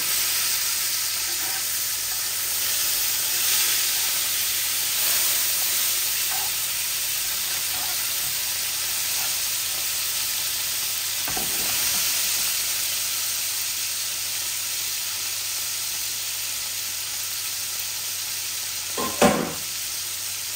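Tilapia fillets frying in oil in a pan for a potato fish curry, giving a steady, close sizzle throughout with occasional stirring scrapes and a sharper clatter near the end, no one speaking.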